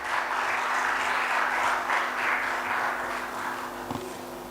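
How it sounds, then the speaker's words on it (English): Sustained audience applause fills a conference hall at a national sustainability event, a steady dense wash of clapping that tapers slightly toward the end, with no one speaking over it. "A big round of applause, ladies and gentlemen."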